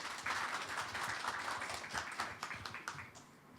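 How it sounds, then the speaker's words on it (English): Brisk applause fills a symposium hall as a dignitary is welcomed to the podium, a dense patter of many hands clapping at moderate distance with a few sharper individual claps standing out. "Please give him a big applause."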